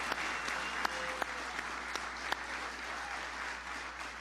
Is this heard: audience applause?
yes